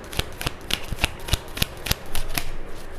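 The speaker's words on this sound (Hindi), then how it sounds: "मैं इसको शफल कर लेती हूँ अच्छे से एक बार" Tarot cards shuffled by hand in a quick riffling run of crisp slaps and flutters, close and fairly loud, with no talking.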